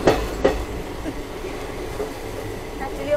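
The Kanchankanya Express passenger train rolls along through hills and forest with a continuous rumbling roll, a couple of sharp clacks near the start and faint squeals toward the end, heard from on board.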